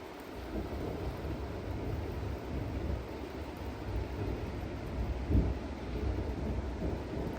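Rain falls steadily in the mountains of Ala Archa near Bishkek, a constant hiss with low rumbling of thunder beneath, one brief stronger rumble partway through, and no talking.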